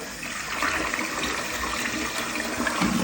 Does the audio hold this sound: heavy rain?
no